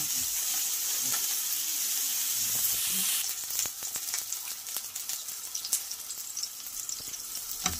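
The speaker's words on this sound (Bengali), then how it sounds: "পেঁয়াজ রসুনটা ভাজা হয়ে গেছে।" Onion, garlic and green chillies frying in hot oil give a steady, close sizzle, joined midway by scattered clicks and stirring scrapes as the pan is worked.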